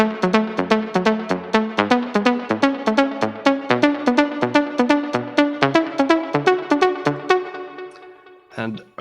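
Melodic house synth lead playing a rhythmic, plucky phrase of evenly spaced notes, with saturated top end and a wash of delay and reverb trailing each note; loud and alone, stopping near the end.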